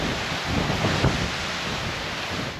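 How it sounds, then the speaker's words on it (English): Steady wind blowing across a coastal hiking trail in Denmark, a continuous broadband rush with gusty buffeting on the microphone throughout. "it's really warm when you're out of the wind"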